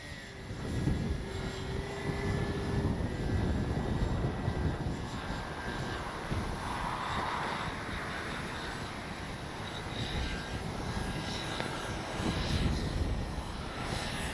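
A Dynam Tucano RC model airplane with its landing gear down makes a pass overhead, its electric motor giving a steady, moderately loud buzzing drone throughout against outdoor wind noise.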